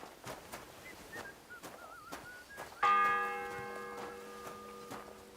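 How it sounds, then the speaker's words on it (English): A church bell in Kingdom Come: Deliverance rings a single loud struck tone that rings out and slowly decays, preceded by soft ticking and pigeon-like cooing, with no speech. "The first bell."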